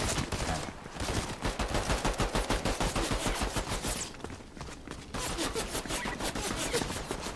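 Rapid automatic gunfire from the video game Fortnite, long sustained bursts of loud, dense shots with a brief pause midway before firing resumes.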